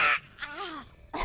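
Crows cawing outdoors, two or three harsh, drawn-out calls with a wavering moan-like middle call, fairly close and clear against a quiet background.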